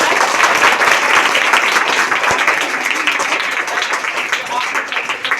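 Students in a classroom applaud together, a dense, steady burst of many hands clapping at close range that carries on for several seconds.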